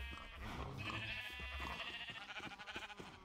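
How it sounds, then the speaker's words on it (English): Sheep in a blocky Minecraft-style game bleat in a quiet, wavering call over soft background tones, with no talking. "is to shear these sheep over here"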